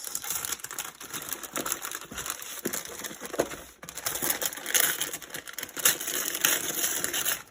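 Paper crinkles and rustles steadily as a gift box of Zippo items is unwrapped and opened, with busy, close crumpling and tearing throughout and no talking.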